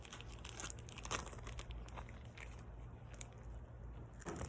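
A plastic bag is squeezed and pressed to push the air out while making ice cream in a bag, giving soft, close crinkling and rustling in irregular bursts.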